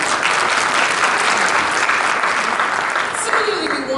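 Sustained audience applause at an Election 2024 event, dense clapping from a sizable crowd that holds steady and loud before tapering slightly at the end.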